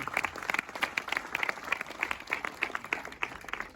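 Faint, distant applause from an audience at a political campaign rally, steady scattered clapping for the mayor continuing evenly for a few seconds with no voices over it.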